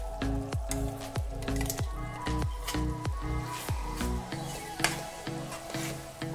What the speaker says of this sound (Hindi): हमने जो टमाटर, प्याज और दही का पेस्ट बनाया था वो अब हम इसमें डाल देंगे।